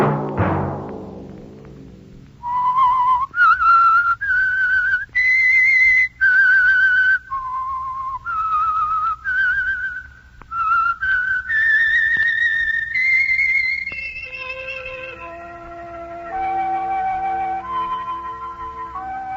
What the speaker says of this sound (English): Let that whistle be your signal each Sunday for The Whistler.